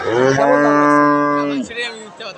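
A Holstein Friesian dairy cow up for sale lets out a single loud, close moo that holds steady for over a second before trailing off into a brief lower grunt.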